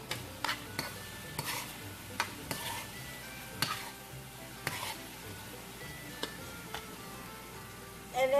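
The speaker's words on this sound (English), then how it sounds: "I guess, because yeah, it's boiling." Soft, steady bubbling and sizzling of General Tso's sauce boiling in a pan, with occasional light clicks and taps of a utensil, close by and no voices.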